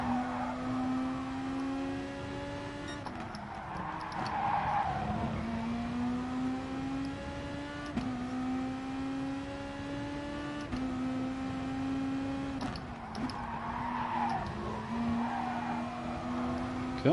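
Race cars in the Gran Turismo Sport video game with a steady engine whine that climbs in pitch and drops at each gear change, repeated over a long stretch, with tire noise mixed in.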